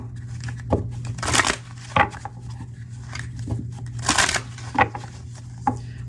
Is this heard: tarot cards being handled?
yes